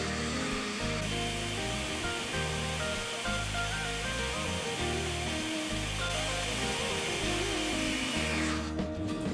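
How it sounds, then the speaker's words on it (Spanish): A blender roars steadily, liquefying a green detox juice made with nopal and turmeric, its motor whirring loudly and continuously before cutting out near the end. "Licuamos, recuerda licuar un poquito de más tiempo de lo normal porque tenemos que cortarle"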